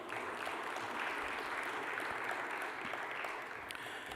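Applause from a conference audience at the Indo-French Investment Conclave in Hyderabad welcomes a moderator on stage, a steady, moderately distant wash of many hands clapping that holds level and eases slightly near the end.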